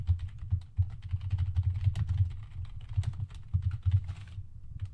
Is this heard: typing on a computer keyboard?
yes